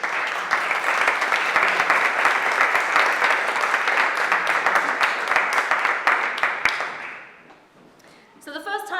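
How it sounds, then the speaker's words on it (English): An audience applauding a soprano and pianist at a Caribbean folk concert, dense steady clapping for about seven seconds that fades away, followed by a brief spoken voice. "Can we all give Melissa a round of applause?"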